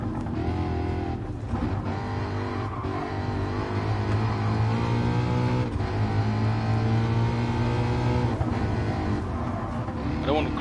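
A race car engine in the video game Gran Turismo Sport roars continuously, its pitch climbing and dropping through gear shifts, loud and close, with a voice talking briefly over it.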